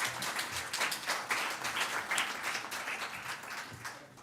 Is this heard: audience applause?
yes